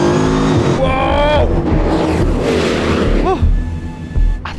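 The Bugatti Bolide track-only hypercar at Spa in Belgium revs hard, its engine note climbing and falling in loud rising sweeps, with a brief excited exclamation from a person.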